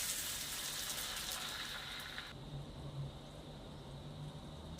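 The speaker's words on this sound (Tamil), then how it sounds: "இந்த கொள்ளு தண்ணி வச்சுருக்கோம் இல்லையா அதை இப்போ சேர்த்துடலாம்" Horse gram water is poured into a cooking pan as a steady splashing gush for about two seconds. A softer simmering hiss follows, close and moderately quiet.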